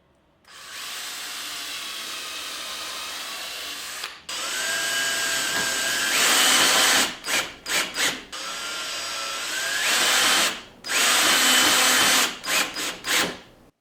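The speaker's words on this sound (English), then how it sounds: "then drive 2 screws, one through the 2x3 and the other through the horizontal baluster" A power drill drives screws into wood balusters for a bike stand, with two long high whining runs that rise in pitch as each screw seats, followed by short stuttering trigger bursts, loud and close.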